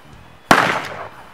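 A scoped revolver fires a single loud, close shot at a hanging chain target, a sharp crack followed by a brief ringing decay.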